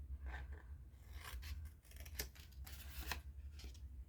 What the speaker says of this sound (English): we're going to cut away these pieces right here